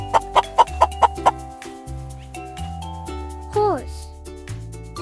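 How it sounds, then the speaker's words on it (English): A chicken clucks six times in a quick, even rhythm near the start, then goes quiet while a steady musical backing plays underneath. "Chicken."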